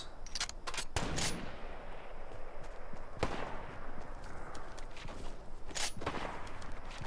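Sniper rifle shots in the video game Fortnite, a few sharp cracks spaced seconds apart, loud and close, with quieter movement sounds and faint background noise between them.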